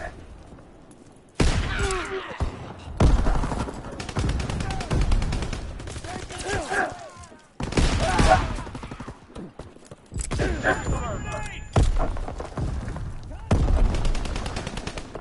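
Video-game gunfire comes in loud, close bursts of rapid automatic shots separated by short pauses, with game voices calling out between and over the shooting.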